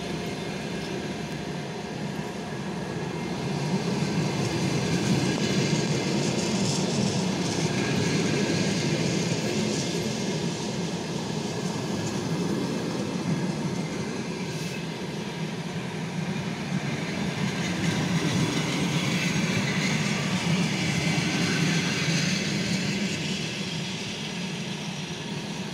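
A passenger train hauled by a ChS4 electric locomotive rumbles past under a speed restriction, a continuous heavy roar with a faint rattling edge that holds steady across the whole stretch.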